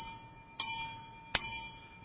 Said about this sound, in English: The bell tolling for the non-repeal of the grocery tax